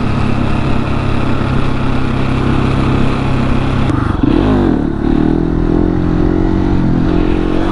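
A motorcycle engine held at loud, steady high revs with the throttle cranked during a wheelie, then briefly dipping and swelling again, close and continuous.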